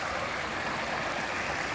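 Steady broadband rush of a river stream flowing into a pond in a zoo's Walkabout Australia exhibit, constant and fairly close with no voices.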